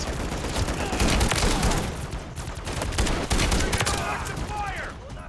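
A 300-round gun fires in sustained, loud bursts in Call of Duty Zombies, with rapid shots and crackling impacts running the whole time and other game effects underneath.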